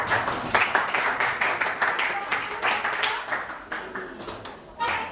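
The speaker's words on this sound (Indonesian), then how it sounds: "beri tepuk tangan untuk kelompok 2." A classroom of students claps for a presenting group, steady rhythmic hand claps at moderate distance running for several seconds, with a voice briefly audible near the end.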